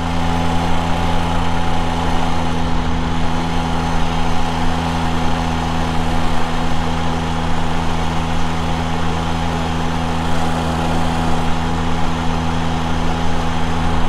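A small 50cc moped, an AV7, runs while being ridden, its engine a steady, close, continuous drone that holds an even level throughout with no talking.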